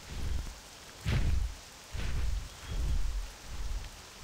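Rain pours steadily at night in World of Warcraft, with several deep rumbling thunder rolls swelling at regular intervals over the soft hiss, no voices present.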